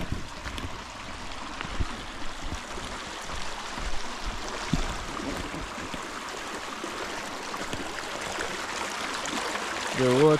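A stream of dirty water flows outdoors, making a steady, fairly quiet rush and trickle that continues throughout, with a brief tonal sound right at the end.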